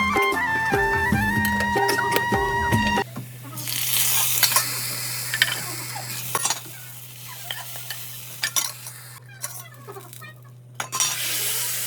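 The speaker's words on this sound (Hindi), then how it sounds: "हरी मिर्च और हरे लहसुन का तड़का लगा देंगे।" Green chili and green garlic hit hot oil with a loud hiss that settles into a steady sizzle, with occasional clinks and stirring scrapes.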